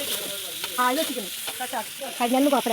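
Sliced onions sautéing in hot oil in a pan give off a steady hiss and sizzle, while a voice with tonal, humming sounds runs over it through the brief moment.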